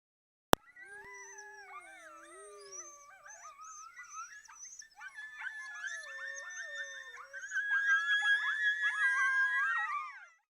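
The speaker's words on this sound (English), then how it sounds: "Take a moment to appreciate this footage of a wild American red wolf howling." Wild American red wolf howling in the Carolinas: several overlapping long, wavering howls rise and fall together in a chorus that grows louder toward the end, with no voices.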